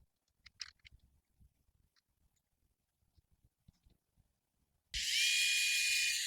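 Screws being driven into the cover of a Dolmar LT 250 trimmer make faint clicks and handling taps, followed by a sudden loud high-pitched whir of a power driver near the end.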